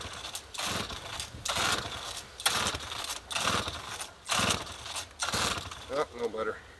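Recoil starter on a cold two-stroke scooter is yanked repeatedly, a rhythmic series of about seven ratcheting, whirring pulls close by without the engine catching, with a voice speaking briefly near the end.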